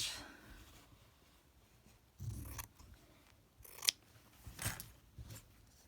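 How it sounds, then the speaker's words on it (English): Scissors cutting a round piece out of fine fabric: a few separate, crisp snips spaced over several seconds, close but quiet against a faint room hush. "I think cutting out round one of these ones would be quite good."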